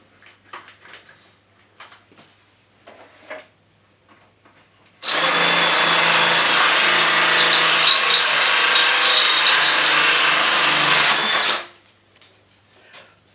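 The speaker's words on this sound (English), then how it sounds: "We've drilled with the hole saw" Quiet handling clicks, then a loud power drill with a hole saw whines steadily through wood for several seconds before stopping.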